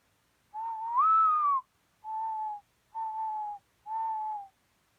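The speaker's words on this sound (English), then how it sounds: "It's a mourning dove." A mourning dove's song: one longer note that rises then sinks, followed by three shorter even coos, clear and isolated against a silent background.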